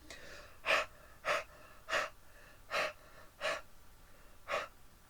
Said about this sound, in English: I'm going to go huff huff on it to moisten it again before I stamp it